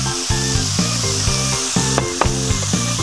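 Chili powder and vegetables stir-fry in hot oil for jjamppong rice as splashes of hot water are added, giving a steady, close sizzle with a rhythmic clatter of stirring.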